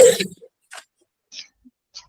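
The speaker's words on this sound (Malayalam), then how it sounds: "ആരാണ് ചുമച്ചതാരാണ്?" A single short cough bursts out during a live online class, followed by near silence broken only by a few faint, scattered small sounds.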